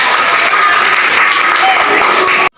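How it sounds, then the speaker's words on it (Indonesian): A classroom full of pupils at MTs N 7 Agam gives a loud, close round of applause during a teaching-practice lesson; the clapping holds dense and steady, then stops abruptly. "Sekali lagi kita beri tepuk tangan yang meriah."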